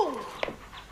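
A dog whimpers close by, a brief high whine that slides downward, followed by a faint short yelp.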